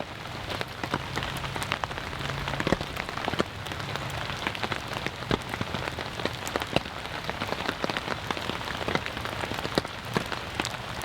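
Steady rain pattering on a NatureHike Opalus 3 tent, a dense continuous wash with frequent sharper drop taps, fairly close and even throughout, with no voices.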